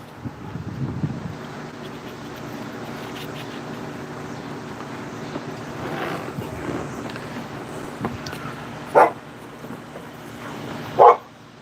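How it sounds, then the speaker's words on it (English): A dog barks twice near the end of the clip, two short sharp barks a couple of seconds apart over steady outdoor wind noise, with faint background sounds before them. "What are you barking at?"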